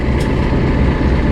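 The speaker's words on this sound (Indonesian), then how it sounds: "untuk kereta api Sri Tanjung ini yang bertugas hari ini yaitu lokomotif CC 204 tahun pembuatan 2003" Sri Tanjung passenger train hauled by a 2003-built CC 204 locomotive, a loud continuous rumble of rolling wheels and engine drone.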